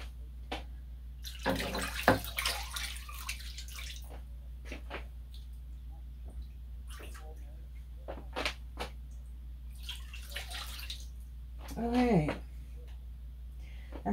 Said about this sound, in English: And we'll add some acid water.